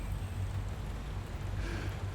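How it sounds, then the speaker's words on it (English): Steady rain falls over a garden of withered irises, a continuous even hiss with low rumbling texture and no clear individual drops, moderately loud and unbroken throughout. "It began to rain."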